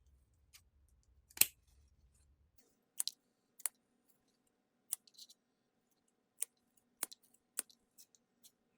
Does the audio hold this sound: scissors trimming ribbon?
yes